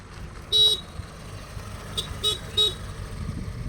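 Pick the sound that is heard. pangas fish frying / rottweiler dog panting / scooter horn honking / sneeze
scooter horn honking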